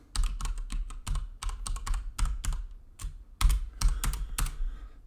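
Rapid typing on a computer keyboard during a Java programming lecture: loud, close clacking keystrokes in quick irregular bursts with brief pauses, no talking.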